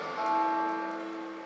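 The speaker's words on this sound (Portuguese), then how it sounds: "toca o sino, sacristão" A church bell is rung by the sacristan, giving a single sustained, ringing tone that holds at an even, moderate level and slowly fades, with no voices over it.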